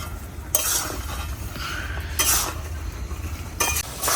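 Country chicken frying with spices for biryani, a low steady sizzle with three bursts of spatula scraping and clinking against the pot, close and without speech.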